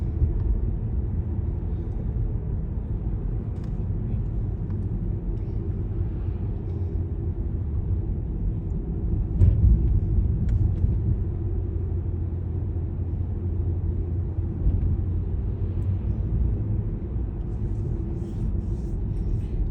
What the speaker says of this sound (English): We're just driving randomly to the city.